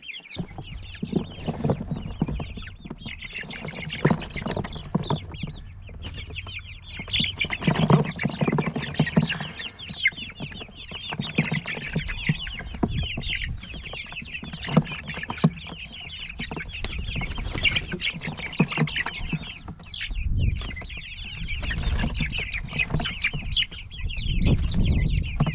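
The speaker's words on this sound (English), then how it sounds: "I'm gonna take out my chicks outside so they can get some fresh air and some sun" Young chicks, including a cockerel, cluck and peep continuously outdoors in fresh air and sun, a steady close chorus of overlapping calls with no talking.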